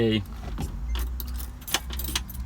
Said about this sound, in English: 3 keys. One is for ignition, second one is for the doors, and the third one is for the trunk.